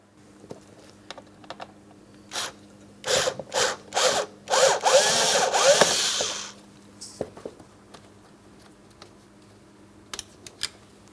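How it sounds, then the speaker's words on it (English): A Phillips-head screwdriver backs out mounting screws from the master window switch on a Mitsubishi Outlander, with a short series of close scraping, ratcheting turns and clicks, then a few light taps and handling noises. "Let's remove all 3 of those mounting screws."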